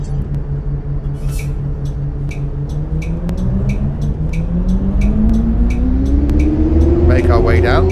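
Volvo Olympian double-decker bus engine in a driving simulator pulling away from a stop, a steady diesel rumble whose tone rises as it accelerates, with a few light ticking clicks over the top.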